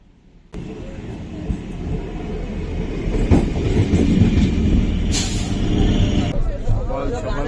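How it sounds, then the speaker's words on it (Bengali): A crowded passenger train pulls into Lakshmikantapur station during the 2025 Gangasagar mela, its loud, steady rumble building with a sharp brake hiss near the end, while voices murmur on the platform. "এখন লক্ষ্মীকান্তপুর এসে পৌঁছালো ট্রেন"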